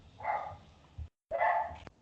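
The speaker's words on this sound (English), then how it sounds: "a dog's going nuts over here" A dog barking somewhere nearby during a podcast recording: two separate, rough barks about a second apart, moderately faint, with no talking over them.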